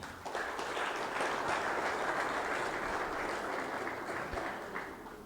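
Steady, dense applause from an audience at a public policy event, a continuous wash of clapping at even loudness that tails off slightly at the end.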